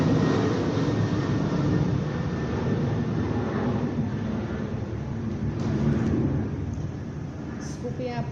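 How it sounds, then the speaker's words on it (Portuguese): A continuous broadband roar of an airplane passing overhead, loud and steady throughout, with a faint voice underneath. "aqui passa um avião que a gente não consegue ouvir direito"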